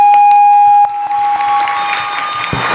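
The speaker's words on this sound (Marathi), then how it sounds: "टाळी वाजा, टाळी टाळी टाळी टाळी" An audience clapping along during a Marathi kirtan, heard as a crowd's continuous patter of hand claps that follows a brief sustained tone and runs to the end.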